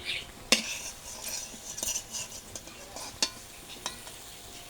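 Metal utensil scraping and clinking against a frying pan as a fried lentil and pumpkin-flower chop is lifted out, with scattered sharp clicks over a faint sizzle of oil.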